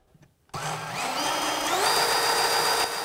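DeWalt 20V XR mid-size cordless bandsaw (DCS378/DCS379) starting up and running freely, its motor whine climbing in steps as the variable-speed trigger is squeezed, close and steady with no talking.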